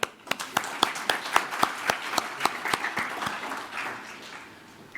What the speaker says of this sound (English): Let's give them all a clap.